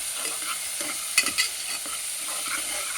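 Ginger garlic paste fries in oil for a keema curry, a soft steady sizzle broken by a few close scraping stirs of a spoon in the pan, no talk.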